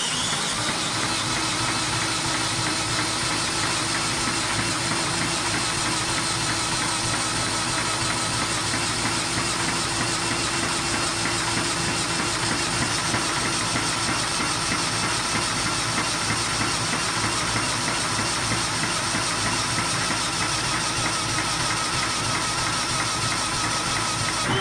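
A 1930s engine, fired up to power a house, runs steadily with a constant dense mechanical drone and hissing rumble, loud and close throughout with no talking.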